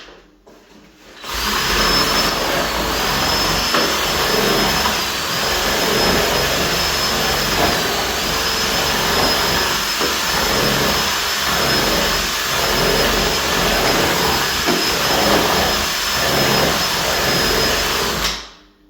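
A power drill with a paint stirrer attached whirs steadily for a long stretch mixing paint, loud and close, with a faint high whine and slight churning variations as it stirs.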